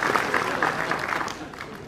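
An audience at an annual general body meeting claps in a brief, dense burst of applause that stays steady and close.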